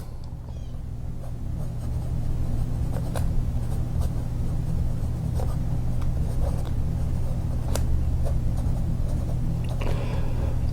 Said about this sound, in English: Hopefully you can hear how smooth that nib is.